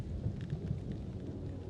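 Rain and rolling thunder in the horror video game Little Hope, a low steady rumble under a soft wash of falling rain, with no one talking.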